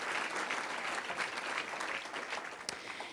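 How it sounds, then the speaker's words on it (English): Steady applause from an audience at an annual business awards meeting, honoring the venue team; a broad wash of many hands clapping continuously, then tapering slightly near the end. "Let's give the team a round of applause from the farms."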